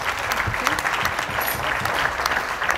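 An audience at a church gathering claps loudly for a visiting prophet from New York, a dense, steady wash of applause that holds at an even level for the whole stretch.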